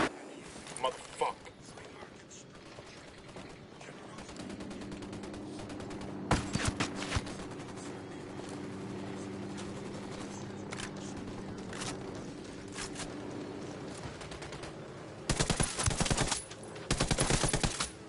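Machine-gun fire in a PS4 shooter, scattered bursts near the start and a dense, loud volley near the end, with a sustained mechanical hum and voices talking in between.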